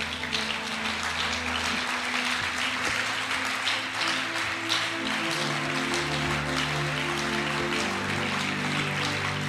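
A church congregation applauding, sustained dense clapping from many hands over a held organ or keyboard chord, steady and loud throughout with no talk.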